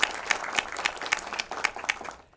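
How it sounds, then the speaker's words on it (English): Brief burst of audience applause from a gathered crowd at an evening artist talk at the National Quilt Museum, a dense patter of claps close by that fades out at the end. "Yes, clap. Give ourselves a hand."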